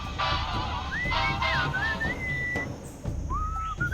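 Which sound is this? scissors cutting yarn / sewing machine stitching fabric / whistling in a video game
whistling in a video game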